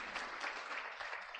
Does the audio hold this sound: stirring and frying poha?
no